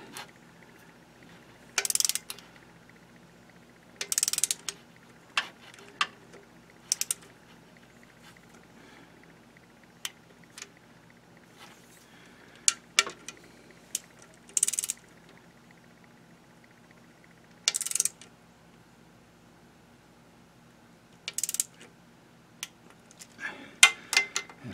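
A small ratchet wrench clicks during a 1997 Toyota Camry transmission service, with short bursts of quick, faint ticking separated by quiet pauses over a low background hum.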